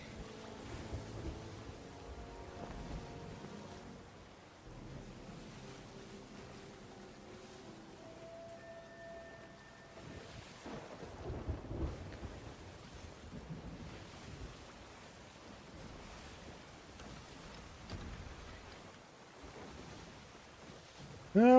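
A video game thunderstorm with rain: a continuous rushing wash of rain and wind with low rumbles rising and fading, at a moderate level throughout.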